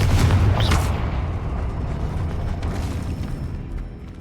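A Confringo fire spell explodes in the Hogwarts Legacy video game: a loud heavy boom at the start that rolls into a long, fading rumble with no voices.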